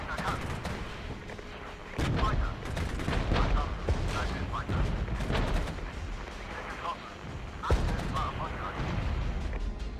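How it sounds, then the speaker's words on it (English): Distant artillery booms and gunfire roll in repeatedly during a battle in the Regiments strategy game, with sharp loud blasts near 2 and 7.7 seconds over a dense, continuous rumble of combat. "The artillery coming in from the left there is really annoying"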